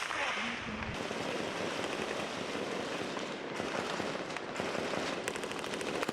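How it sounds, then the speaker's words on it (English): Rapid bursts of gunfire crackle continuously at a distance, sharp cracks layered over a noisy outdoor background, with some overlapping volleys. "Lots of gunfire, man."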